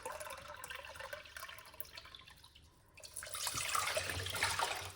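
Water pours into a pot from a large cup for a lime and ginger drink, a quiet steady splashing that swells in the second half and runs on alone.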